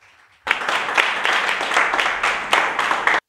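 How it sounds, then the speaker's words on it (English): An audience claps for two Ghanaian political cartoonists, Bright Ackwerh and DAAVI, in a steady burst of applause at a panel discussion, lasting about three seconds and stopping abruptly. "please let's clap for Bright and DAAVI"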